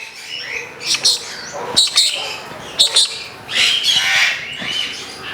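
A macaw parrot's loud, harsh squawks burst out in short bursts several times, with a longer raucous call near the end, close by.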